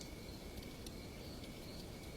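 Continuous shrill chirping of crickets, a dense steady trill with no voices, heard alone at moderate volume.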